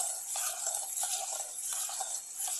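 Homemade fabric conditioner mixture being stirred in a container, giving a steady, soft scraping and swishing with faint clinks that repeat throughout, alone and without talk.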